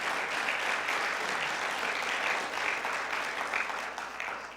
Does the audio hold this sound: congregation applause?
yes